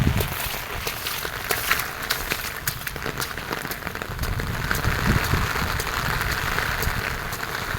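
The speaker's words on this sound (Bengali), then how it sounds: "কিভাবে বৃষ্টি চলতেছে" Heavy rain pours down at the Park Hyatt in Abu Dhabi, a dense, continuous hiss of water with scattered sharper drop impacts, steady and enveloping throughout with no voices.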